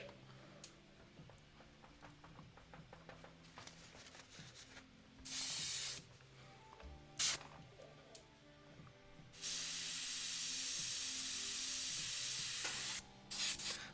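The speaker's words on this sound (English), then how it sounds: "all my airbrushes are shooting a little weird now because I messed them up just a bit ago" Airbrushes spraying paint for a freehand skull give short bursts of airy hiss, then a longer steady hiss near the end, close and moderately loud against quiet background clicks and no speech.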